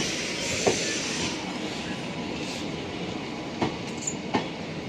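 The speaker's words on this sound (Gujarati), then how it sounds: "આપણી લોકલ ટ્રેન આવી ગઈ છે" A local passenger train arrives at Shapur station, its steady rumble broken by a few sharp wheel clacks and squeals, moderately loud with no talk over it.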